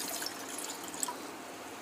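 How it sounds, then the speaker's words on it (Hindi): Water poured into a pot from a small stream, a soft continuous trickle with faint drips, quiet and close. "अभी हमने एक बर्तन लिया है, अभी हम उसमें थोड़ा सा पानी डालेंगे"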